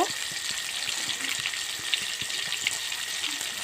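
Dried red chillies rinsed in water for a pangas fish dish, a steady wet swishing and trickling with small splashes throughout, close and moderately loud.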